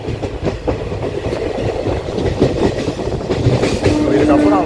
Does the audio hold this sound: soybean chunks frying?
no